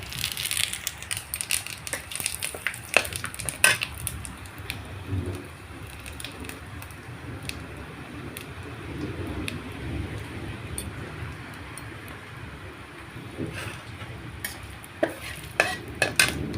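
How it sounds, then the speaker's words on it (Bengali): Dried red chillies, bay leaves and cumin crackle and fry in hot oil in a wok, a steady sizzle with scattered sharp pops and the occasional scrape of a spoon against the pan. "তেলটা গরম হলে আমি এতে দিয়ে দিলাম শুকনো লঙ্কা ও তেজপাতা"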